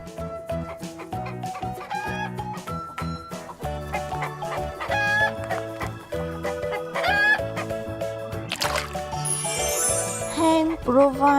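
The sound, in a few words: hen clucking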